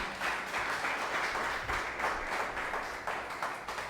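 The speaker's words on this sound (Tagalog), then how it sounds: "The best mong palakpak para kay Jesus" Church congregation clapping during a worship service, a fairly faint but steady patter of many hands with rhythmic pulses, heard alone without talk.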